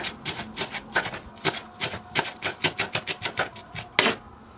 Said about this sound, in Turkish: Bir tutam maydanozu da doğrayalım.